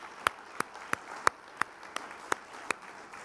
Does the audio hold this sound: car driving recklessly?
no